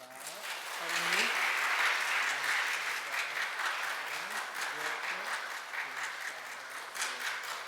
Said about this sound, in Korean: 한 사람 한 사람 우리 장학금 받게 될 때 축하로 박수로 축하해 주시면 감사하겠습니다